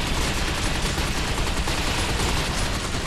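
Gunfire in the shooter Binary Domain, a dense, loud, continuous barrage of rapid shots blending into a roaring wash for the whole stretch, no talk over it.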